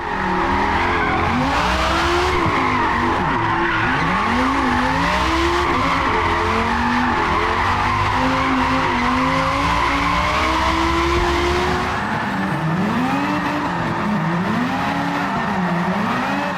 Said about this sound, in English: When you apply the handbrake, the rear wheels will lock, initiating the drift.